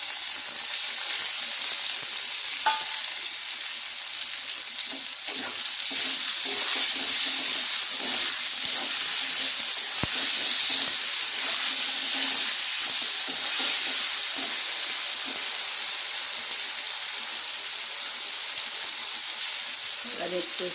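A paste of ginger, tomato and slit green chilli fries in hot oil, giving a steady, close sizzle with soft stirring scrapes throughout.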